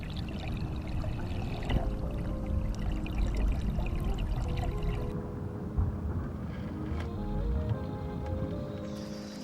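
River water runs steadily past grassy banks in spring in Straffan, a continuous broadband wash of flow with faint wind. It stays at a soft, even level throughout, with no voices.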